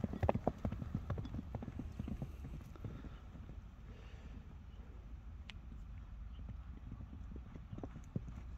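A horse walks at a steady pace, hooves clip-clopping in a regular rhythm at close range, with light wind noise and a faint murmur of voices in the background.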